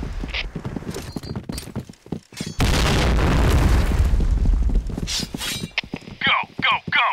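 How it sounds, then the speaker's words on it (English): Grenade explosions in a first-person shooter, a loud broadband boom lasting a few seconds amid shouted callouts, followed by sharper bursts and effects with voices throughout. "Fire in the hole! Fire in the hole! Nice shot! Fire in the hole!"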